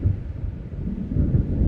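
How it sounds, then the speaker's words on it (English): Low rumbling thunder rolls in over a windy lakeside scene in the video game Alan Wake, a deep, continuous swell with no talking. "It seems there's a storm coming."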